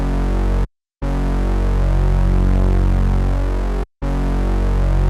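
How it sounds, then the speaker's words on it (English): Prophet 5 synth bass pattern, heavy and loud with thick low end, sounding continuously and cutting out sharply twice for short gaps. "Then I laid down this synth bass pattern."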